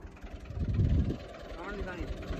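A tractor engine idles with a low uneven rumble in a sugarcane field, someone talking over it as the machine is edged into position.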